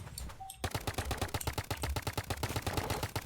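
Rapid automatic gunfire from the Roblox game Big Paintball 2 rattles in a fast, even burst of close, loud shots that runs without pause after a short quieter lead-in.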